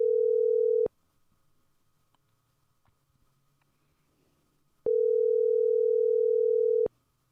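An outgoing phone call rings with a steady electronic tone in two long bursts separated by a few seconds of near silence, clear and close.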